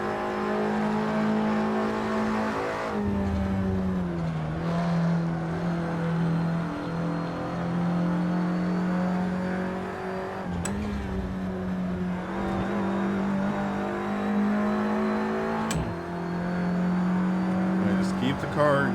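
In the Assetto Corsa sim, an Audi TT Cup race car at Brands Hatch drones steadily at high revs, the pitch dipping and climbing through gear changes, with brief sharp clicks, while someone talks over it throughout.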